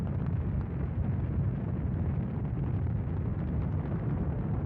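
Space shuttle launch with main engines and solid rocket boosters roaring, a dense, continuous low rumbling roar with crackling texture, loud and steady throughout.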